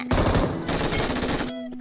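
Automatic fire from a weapon in the mobile shooter game Metro Escape, one loud, dense continuous burst of rapid shots that stops abruptly near the end.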